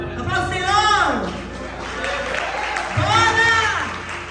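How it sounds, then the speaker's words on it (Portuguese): A church congregation applauds during an in-person worship service, steady broadband clapping running through the whole moment beneath loud, impassioned singing or shouting from a leader. "Aplausos, Senhor."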